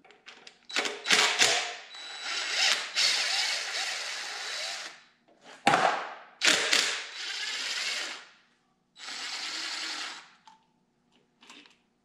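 A ratchet works loose the fuel pump on the engine of a 1978 GMC K25 truck, with loud, close runs of rapid clicking that stop and start several times, separated by brief silences.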